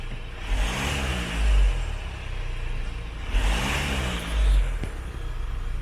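A Hyundai Palisade engine runs steadily just after an oil change with Motorex LA-X, its even mid-range hum swelling twice in brief revs and settling again, close and alone with no talking.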